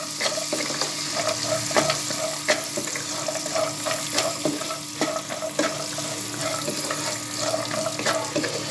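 Ingredients for panjiri frying in a spoonful of ghee, with steady close sizzling and frequent stirring clatter throughout, no talking.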